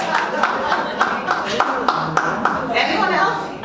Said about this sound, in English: y'all give a round of applause at least.